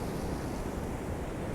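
Ocean waves break on the shore on a foggy, gray morning, making a steady, full wash of surf that continues without pause, with wind rumbling across the microphone.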